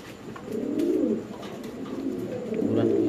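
Pigeons at a pigeon farm coo in repeated low rolling calls that swell and fade in waves, close and clear, with no talk over them.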